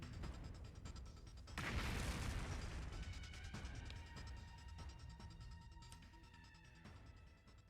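A bomb blows up in a video game with a sudden loud blast, then a long rumbling, crackling decay that fades under steady background game sound.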